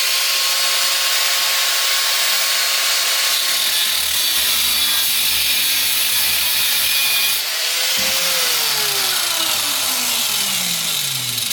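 A fitting is cut off a Tanks Incorporated EFI polyethylene fuel tank with a steady, loud, rasping cut that runs without a break. Its pitch shifts partway through, and no one speaks.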